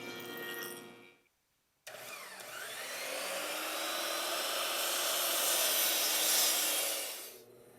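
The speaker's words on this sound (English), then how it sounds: "We're straightening the face with the planer" A planer straightens the face of a glued-up wooden board: a brief motor sound, a short silence, then a loud sustained cutting roar that builds and holds for several seconds before tapering off.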